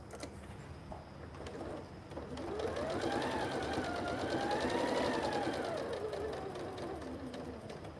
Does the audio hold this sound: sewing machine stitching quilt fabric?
yes